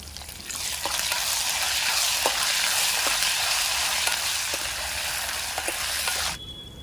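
Curry leaves and green chillies hiss in hot oil, tempering for a Telangana gongura chana dal curry. The loud, steady close-up sizzle has a few faint stirring taps and cuts off abruptly at the end.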